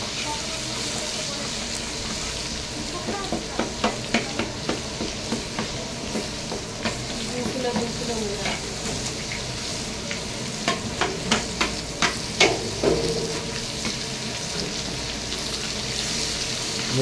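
Garlic browning in oil in a pan for a fish fantasy dish, a steady close sizzle with repeated clicks of stirring, no talk.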